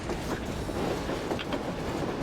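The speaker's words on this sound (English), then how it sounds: "Train." A train rumbles past in the Metro Exodus video game amid a blizzard, a dense, steady roar with faint rhythmic clatter and no voices.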